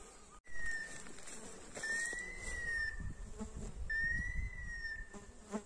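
Midges, horseflies and mosquitoes buzz steadily close by, with a few thin rising bird whistles cutting through the drone.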